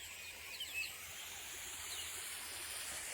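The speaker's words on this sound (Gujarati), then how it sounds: "જો ફુવારા ચાલુ છે આપણા ખેતરની અંદર" Water sprinklers spray across a potato field with a steady, soft, far-off hiss. Faint birds chirp now and then above the hiss.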